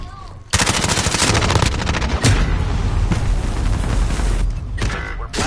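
Sustained automatic gunfire in a shooter video game, rapid loud bursts filling several seconds with a brief pause partway and a short gap near the end.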